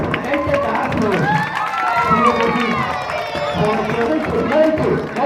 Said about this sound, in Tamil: எல்லாம் ஒரு கைத்தட்டு தட்டுங்க